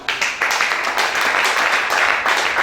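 A church congregation claps and cheers in praise of Jesus during a worship service, a dense, steady wash of applause that fills the room throughout, with no speech standing out.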